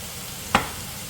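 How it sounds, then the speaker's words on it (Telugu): Marinated chicken goes into a hot pan for green chicken biryani: a soft, steady background sizzle broken by one sharp, loud hiss as the meat hits the oil, then settling back to a quiet fry. "ఇది 1 మినిట్ ఫ్రై అయ్యాక మనం మ్యారినేట్ చేసుకున్న చికెన్ దీంట్లోకి వేసేసుకోండి"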